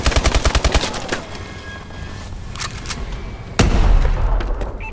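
Rapid automatic gunfire in the futuristic shooter Call of Duty Advanced Warfare opens with a fast burst, then scattered shots over a busy game background, and a heavy boom hits near the end.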